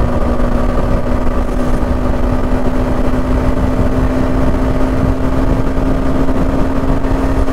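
Steady, loud engine drone and rushing wind from a motorcycle cruising at about 101 on a highway, continuous and unbroken with no talking.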